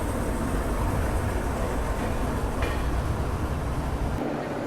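A train hauled by a combined 12,000-horsepower locomotive on the Shiradi Ghat line in Karnataka rumbles steadily and loudly throughout, with a continuous broadband roar and rolling wheel noise that drops away near the end.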